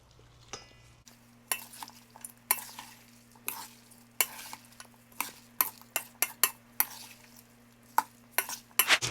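Chopped serrano and jalapeno peppers being mixed and folded, a run of sharp, irregular scraping and clinking strikes over a faint steady hum, close and distinct.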